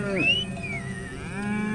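Cattle low in a long, rising and falling moo where Maasai herdsmen graze their herds in an African park, a single drawn-out call close and clear over faint background.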